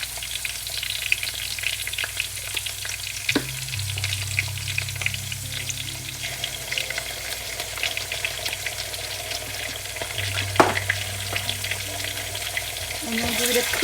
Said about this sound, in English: We're going to saute this for about a minute or 2 till the onions